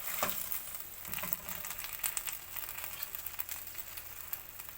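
Sardines frying in a pan give off a steady, hissing sizzle with faint crackles and an occasional stir, continuous and moderately quiet throughout.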